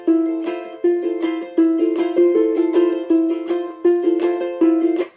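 Ukulele played with a thumb pluck on each beat mixed with finger strums, giving bright repeated chords in a steady four-count rhythm, close and clear.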